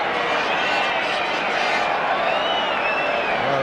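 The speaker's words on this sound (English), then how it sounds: "a few whistles from the crowd there" A 1970s football stadium crowd at a Leeds United match roars in a steady, dense wash of cheering and whistling, with thin whistles drifting above the broad noise throughout.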